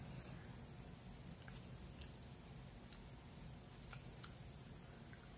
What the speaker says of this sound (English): I have a sweet spot for chewing on this side